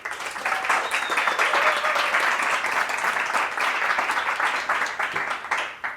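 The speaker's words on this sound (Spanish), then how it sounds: "Así que pueden aplaudir." A crowd applauds steadily for several seconds at the launch of a WordPress community podcast, dense even clapping that holds level from start to finish with no voices over it.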